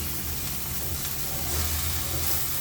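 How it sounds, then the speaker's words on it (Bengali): Onion frying in a pan gives a steady, dense sizzle, close and constant for a short stretch with no voices. "এই যে পেঁয়াজটা আমার ভাজা ভাজা হয়ে গেছে"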